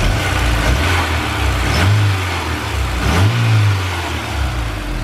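A car engine whose wiring had been chewed by animals, now repaired, runs steadily and close by, then swells in two smooth revs before settling back to a steady run.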